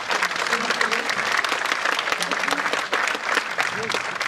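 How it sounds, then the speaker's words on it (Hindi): Audience applauding loudly after a stage play performance, dense sustained clapping throughout with crowd noise. "एक बार और जोरदार तालियां।"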